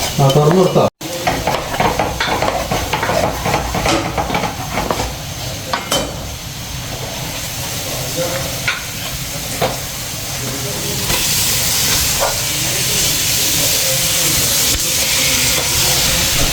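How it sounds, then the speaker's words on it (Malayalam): Tomatoes sizzle as they are sautéed for Kuttanad duck curry: close, busy stirring clatter over frying at first, then a loud, steady hissing sizzle that builds toward the end, with no talk. "തക്കാളി കൂടെ ഇട്ട് വാറ്റി വാട്ടി തുടങ്ങിയിട്ടുണ്ട്"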